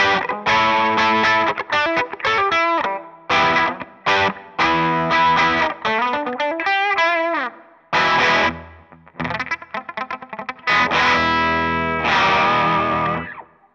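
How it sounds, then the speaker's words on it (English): A bass played through a guitar effects pedalboard gives heavily distorted, chorused alt-rock and shoegaze tones: loud, dense sustained notes and chords in choppy phrases with brief gaps and sliding pitch, no talk. "So there, that's my bass sound."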